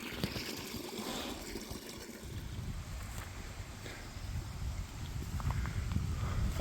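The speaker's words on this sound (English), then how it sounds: "The water's gushing, like really gushing" River water rushes steadily along East Armuchee river near Dalton, Georgia, a continuous broad roar with low rumble and wind-like hiss, loud and close with no voices.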